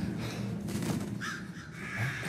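Crow cawing in the video game Vergil's Downfall, a few harsh caws at moderate loudness over a dense game ambience.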